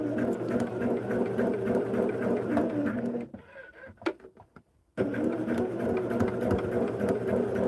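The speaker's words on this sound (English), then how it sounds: "I'm going to stitch around here" Sewing machine stitching an art quilt, running steadily and close with a dense mechanical whir, stopping briefly mid-run with a few soft clicks before resuming at the same pace.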